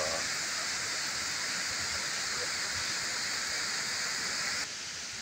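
Steady broadband rush of a waterfall in a tropical forest in Laos, loud and close, continuous without pause; it drops slightly in level near the end.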